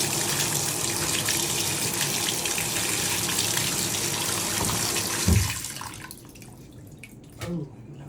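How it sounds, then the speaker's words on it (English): Tap water runs steadily while a razor is rinsed off during leg shaving, a close splashing stream that stops partway through, followed by quieter drips and a short trickle. "rinse this off."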